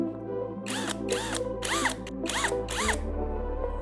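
A drill with a 5 mm bit bores holes for a homemade HHO hydrogen generator, its motor whining in five short, even bursts over a constant low hum.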